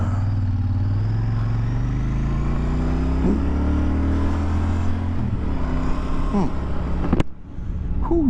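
A 2024 Royal Enfield Super Meteor 650 motorcycle rides along with a steady, loud low engine drone and rising pitch as it accelerates, with wind noise and a brief clunk near the end.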